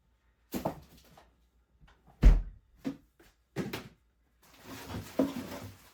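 A kitchen freezer door opens and closes in a home, giving a few separate thunks and clunks with short quiet gaps, then a softer stretch of rustling and handling close by.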